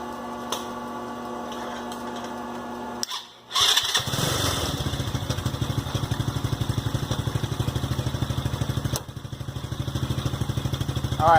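TaoTao 125cc ATV engine cranks after a few seconds of quiet background hum, catches abruptly and settles into a steady, rapid putt-putt idle, loud and close, with a brief dip near the end.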